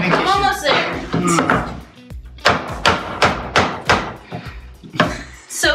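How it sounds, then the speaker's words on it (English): Hammering to force a fit in a shipping container, a series of loud, close thuds and knocks at an uneven rhythm, mixed with voices talking over and between the blows. "Just a little more hammering."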